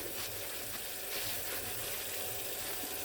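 Water runs steadily from a faucet into a sink at a hand-washing station, a continuous loud rushing splash with no break and no voices.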